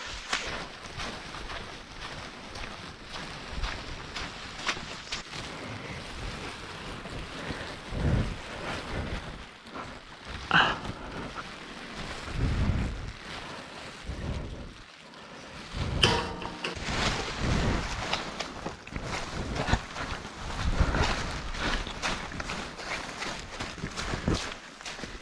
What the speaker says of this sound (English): This is it's like so windy and rainy up here